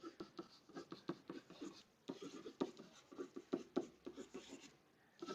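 A hand writes an equation in pencil or pen, a run of quick close scratchy strokes with short pauses between, faint and alone with no talk.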